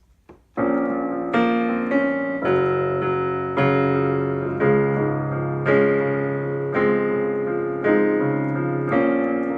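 A piano plays a slow series of full two-handed chords, each struck firmly and left to ring and fade before the next.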